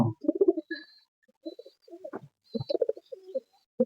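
A large all-white pigeon, from beak to toenails, and others coo in short, throaty bursts with brief pauses between phrases, close and clear, with thin high chirps over the top.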